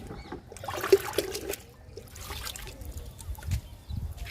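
Liquid fertilizer trickles and splashes onto a bushy potted Ranapala plant, a soft irregular dribble heard close and fairly quiet with brief louder splashes.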